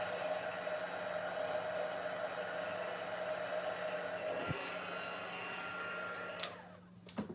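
A heat tool melting white embossing powder on a Christmas card gives a steady, fairly quiet blowing whir for several seconds, then stops with a few small clicks.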